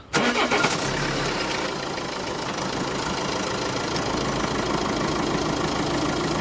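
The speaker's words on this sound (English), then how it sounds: "I'm going to start the engine up." A car's diesel engine with a DPF fault turns over and fires, then runs at a steady, rattly idle nearby, with no voices.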